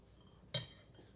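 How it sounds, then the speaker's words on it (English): A single sharp metallic clink as a cooking pot holding stewed okra, onions and tomatoes is moved off the stove, brief and close, fading quickly into quiet. "I'm gonna move my pot off my stove because it's still cooking"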